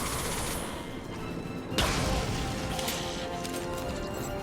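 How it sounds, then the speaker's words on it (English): A video game explosion in Mass Effect 2 bursts with a sharp crash partway through, followed by rumbling and crackling debris over a dense noisy background. "Impending explosion."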